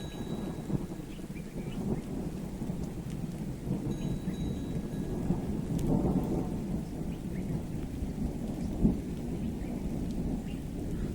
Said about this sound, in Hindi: गरज रहा है बादल।